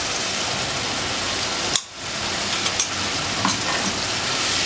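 Ground turmeric, red chilli powder and freshly ground spices hit hot oil while a mixed vegetable pickle is made at home, giving a steady loud sizzle with one brief dip as the powder goes in. Nobody talks.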